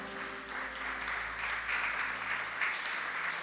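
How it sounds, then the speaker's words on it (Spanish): Sustained applause from a church congregation, a dense wash of clapping that swells slightly midway and continues throughout. "Dale un fuerte aplauso al Señor"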